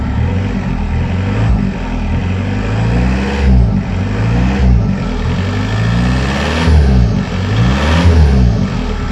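An old van engine runs just after its first start, settling into a loud, steady idle with a slightly uneven, pulsing rhythm and occasional small surges in revs.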